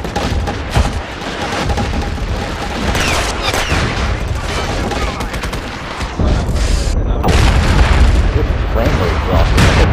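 Friendly troops' gunfire in a video game battle, dense overlapping bursts and booms rattling continuously and loudly from start to end, with someone talking underneath the din.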